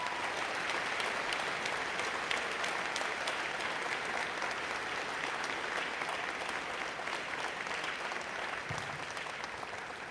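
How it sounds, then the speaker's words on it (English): Sustained, dense audience applause at a school prize day ceremony, steady and even throughout with no talk over it. "have a round of applause for this group in front of us right here"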